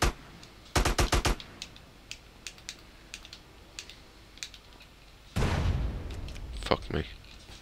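Shotgun blasts in GTA San Andreas: a loud burst of rapid close shots early on, then a second heavy burst of gunfire with scattered reports near the end, with quieter game noise between.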